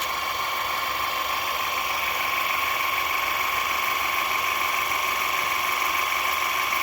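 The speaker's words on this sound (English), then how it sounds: "that other was just the compressor, and that's the reason why it's making all that noise" An air compressor runs steadily beside a VEVOR car jack being raised, a loud constant mechanical drone with a whining tonal hum, unbroken and close throughout.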